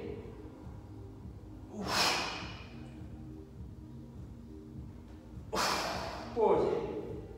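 Two forceful breathy exhalations from a person doing a functional training exercise during a fitness class, each a short loud rush of air about three and a half seconds apart, with low background music.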